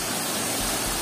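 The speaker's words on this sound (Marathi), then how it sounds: "मस्तपैकी धबधबा" A waterfall pouring over a dam beside a river, a dense continuous roar of rushing water filling the whole second, loud and close with no pauses.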